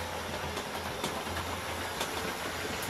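An Airfix Class 31 model diesel locomotive runs round a model railway track with a steady rolling rumble and faint rhythmic clicking of wheels over rail joints, continuous and close.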